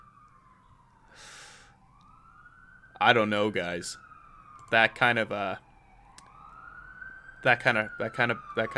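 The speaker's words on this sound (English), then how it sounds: "Sorry for the sirens going on in the back." A distant siren wails up and down in slow sweeps throughout, while someone talks in short bursts over it.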